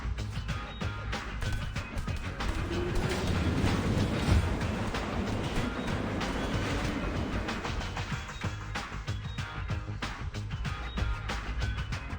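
A train moving in the video game Teenage Mutant Ninja Turtles: Mutants Unleashed, a steady rumbling roll with faint rhythmic clatter that holds at an even, fairly loud level throughout.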